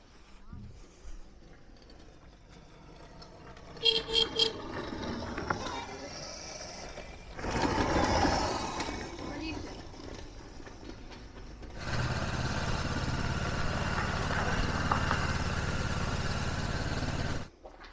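People talk nearby, then a small motorbike engine revs up and runs steadily for several seconds as it turns in place, before cutting off.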